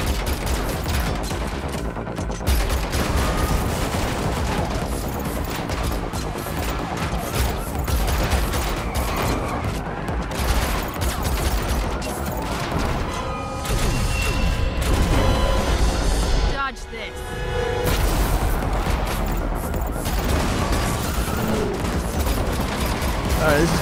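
Dense, continuous gunfire and crashes in The Matrix Awakens Unreal Engine 5 game demo, loud and sustained with a brief dip partway through, with a person talking over it.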